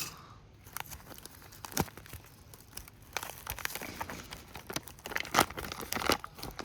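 Crinkly plastic packaging of a vacuum-sealed MRE beef stew pouch being torn and crumpled at close range, with irregular rustles and sharp rips over several seconds.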